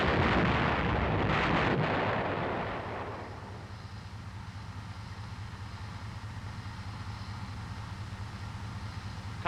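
An M551 armored reconnaissance airborne assault vehicle fires its main gun, a loud blast rolling into a long rumbling decay that fades into steady low background noise.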